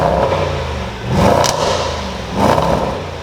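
A Range Rover SVR with its stock exhaust revs up close and loud, its deep engine roar swelling twice in strong surges with a throaty rumble between them.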